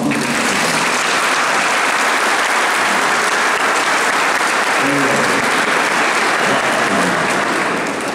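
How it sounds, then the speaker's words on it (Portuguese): Church congregation applauding, a dense, loud, sustained wash of many hands clapping that fills the whole stretch evenly and fades slightly at the very end. "vamos bater uma salva de palmas aqui"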